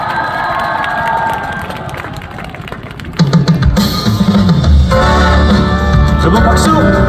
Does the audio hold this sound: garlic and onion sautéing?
no